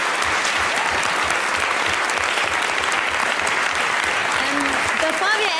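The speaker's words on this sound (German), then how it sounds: "Einen warmen Applaus für unsere Assistentin heute Abend" Studio audience on a German late-night talk show breaking into loud, sustained applause, a dense wash of clapping filling the whole stretch with a few whistles near the end.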